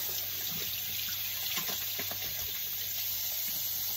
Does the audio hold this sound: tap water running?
yes